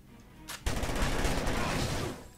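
Sustained automatic gunfire in the Psi-Ops video game bursts in after a short lead-in and keeps rattling densely and loudly for nearly two seconds before tapering off.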